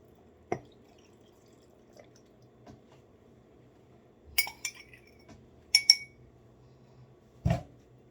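A spoon stirs sugar into an apple scrap vinegar jar, giving a few sparse, close glassy clinks and taps against the jar amid quiet pauses.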